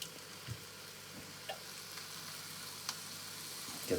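Tinned tomatoes going into chorizo and pearl barley frying in a pan on a plug-in electric hob, a steady low sizzle with a few soft wet clicks and spatters.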